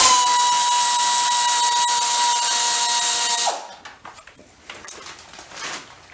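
A power tool whines steadily and loudly at close range for about three and a half seconds while backing out a 5mm hex head bolt from the middle cowl of a 2019 Honda CB500X motorcycle, then stops, leaving faint handling clatter.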